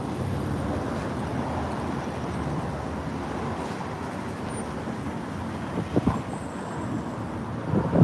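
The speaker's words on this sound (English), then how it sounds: "it gets windy all randomly at around this time" Steady wind blowing across the microphone on a street in downtown Los Angeles, a broad rushing roar with a few stronger gusts toward the end and a faint high tone.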